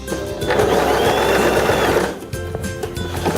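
A Janome 2032X sewing machine runs a bartack to secure a button, a close mechanical whir for about two seconds, then stops, followed by light handling clicks.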